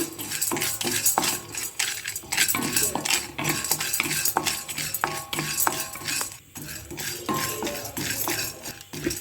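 Dry chana dal roasting in a pan, stirred with a metal spoon: a steady run of close, bright scraping clinks and rattles against the metal, continuous throughout with no talking.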